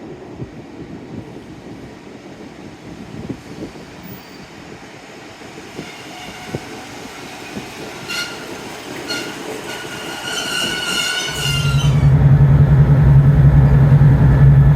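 A passenger train rumbles along near Dawlish with rhythmic clatter of wheels and squealing metallic whines, growing louder into a steady low roar near the end.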